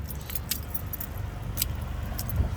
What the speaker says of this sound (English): 2 sets of keys